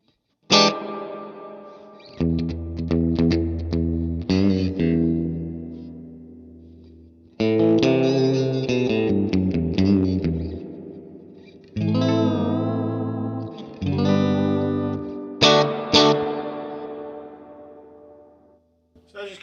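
An electric guitar played through a TopHat Rialto Reverb amp with a drenched, wet reverb. Several strummed chords and picked phrases ring out one after another, each leaving a long, washy tail.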